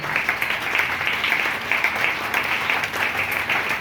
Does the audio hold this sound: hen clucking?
no